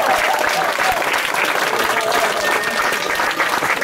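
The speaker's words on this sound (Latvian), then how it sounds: "tiešām ar aplausiem sveicam paši sevi pasaules gala" Audience applause at an evening show during a church youth camp festival, steady dense clapping filling the room at close range with a few faint voices mixed in.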